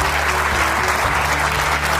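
An audience at a corporate team gathering claps together, a dense, loud, steady burst of applause filling the room.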